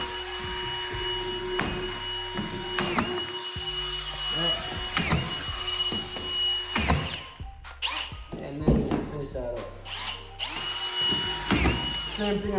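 Screw gun driving screws into plasterboard while hanging a bulkhead, heard as several short whirring bursts separated by pauses, fairly close, with handling knocks between them.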